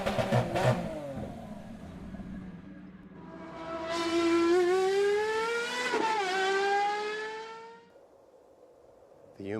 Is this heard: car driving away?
yes